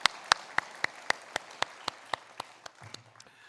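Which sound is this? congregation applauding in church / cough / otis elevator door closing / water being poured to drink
congregation applauding in church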